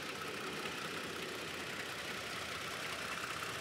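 A 2022 Toyota Tacoma TRD Sport's 3.5-liter V6 engine idles steadily at a low, constant level, a smooth mechanical rumble with no voices over it.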